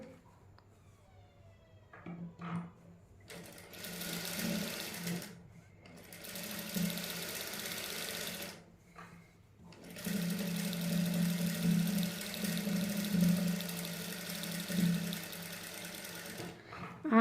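A sewing machine stitches lace onto a sleeve in quiet indoor bursts, starting and stopping with short pauses between runs of steady mechanical whirring.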